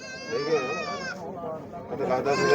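At a livestock sale, a goat bleats loudly and close by in a long quavering call, then bleats again more briefly amid murmuring voices.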